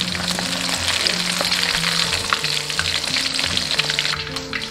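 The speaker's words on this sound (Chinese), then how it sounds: "先用中火给它炸至，慢慢的给它炸" Pieces of stingray deep frying over medium heat in a wok of hot oil, a steady dense bubbling sizzle running the whole time with a low tonal hum underneath and no talking.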